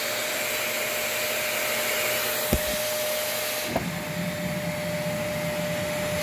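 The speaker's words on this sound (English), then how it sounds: "And then you can hear a lot of leaking. You can feel air leaking all around this nozzle" Kenmore Elite 21814411 vacuum cleaner running continuously with air leaking around the nozzle: a steady, close whooshing whine with a constant tone, broken by a couple of brief clicks.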